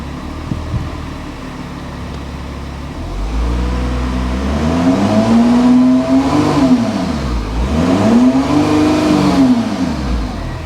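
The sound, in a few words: Volkswagen Touareg engine revving to get it moving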